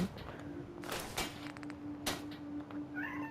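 A house cat meows near a door, wanting to go outside, with a few faint calls over a steady background hum and some soft clicks and knocks.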